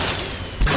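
Gunfire in Fallout 3, a sustained burst of loud shots with a heavy boom near the end, close and dense, with no talking over it.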